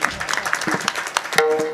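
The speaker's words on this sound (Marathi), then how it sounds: "मोहन महाराज साठी टाळी वाजा एकदा" Audience clapping at a Marathi kirtan for Mohan Maharaj, a short burst of dense handclaps from a crowd, with a sustained tone entering near the end.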